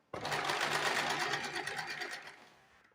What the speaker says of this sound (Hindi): इस तरह से हमने ये पट्टी फोल्ड करी है और एक सीधी सिलाई लगा देनी है।